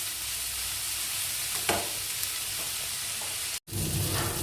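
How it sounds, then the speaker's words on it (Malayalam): Chopped capsicum sautés in a hot pan for a pizza topping, with a steady loud sizzle and soft scraping stirs throughout, broken once by a brief silent gap. "ക്യാപ്സിക്കം ഇട്ട് നമുക്ക് നന്നായിട്ട് വഴറ്റിയെടുക്കാം."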